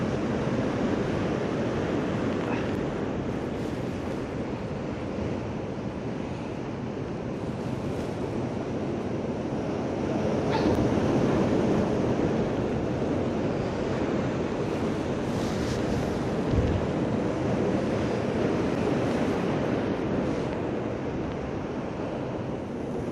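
Large storm waves from Storm Darragh crash on the shore at Skegness, a continuous loud surf roar mixed with buffeting wind, occasional heavier breaks rising out of the steady wash, with no voices.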